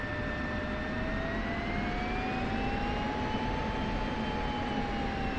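Aircraft propeller and jet engine noise from the DCS flight simulator game forms a loud, continuous roar with a steady high whine that drifts gently in pitch throughout.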